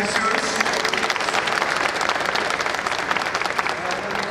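Applause from a crowd at the ribbon-cutting opening of a concrete pipe factory, dense and steady clapping sustained throughout at close range, with some voices mixed in.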